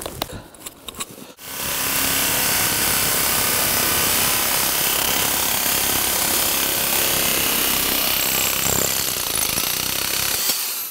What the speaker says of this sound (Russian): просечные ножницы, насадка на дрель